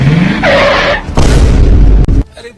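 A car in a comedy sketch skids to a halt with a loud, close tire screech and rushing noise, ending in a sharp thump as it stops.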